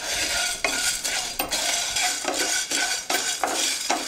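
Chana dal roasts in a pan while a utensil stirs it in repeated scraping strokes with a light dry sizzle, close and fairly quiet, with no voices.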